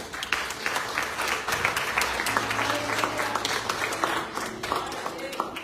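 A church congregation applauding after a sermon, steady rippling clapping from a crowd with voices talking and calling out underneath.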